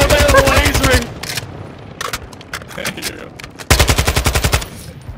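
Rapid bursts of laser gunfire in a video game crackle in loud rhythmic volleys at the start and again near the end, with scattered single shots and clatter in between. Nobody speaks during it.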